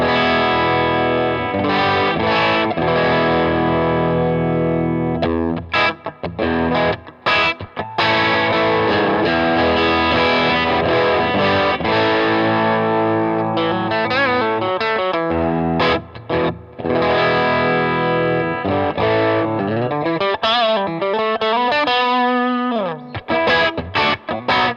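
Fender Telecaster bridge pickup through an Earthquaker Plumes overdrive with a little amp reverb, bright driven electric guitar chords and riffs played continuously and loud with no talking.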